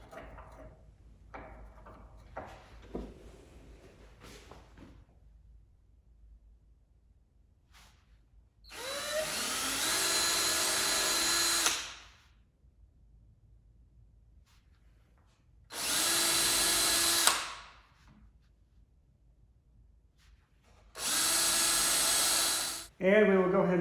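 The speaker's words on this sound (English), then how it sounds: "Now I'm going to mark where I want to drill a few pilot holes for the screws." Three separate bursts of a power drill boring pilot holes for cabinet hinge screws, each a few seconds of steady loud whirring, separated by quieter pauses with faint handling noises and brief speech early on.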